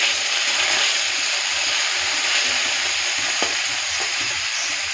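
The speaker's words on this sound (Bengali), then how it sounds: "আর এদিকে পনিরটা আমি একটু ভেজে রেখে দেব।" Paneer frying in a pan gives off a loud, continuous sizzle with faint crackles, close and steady, with no voices.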